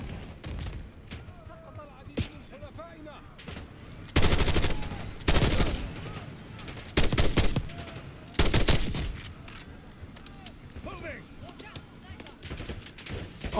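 In the Black Ops 6 campaign, gunfire rattles in bursts: several loud volleys of automatic fire and sharp sniper cracks are spread across the stretch, with quieter ambient battle noise and occasional voices between them.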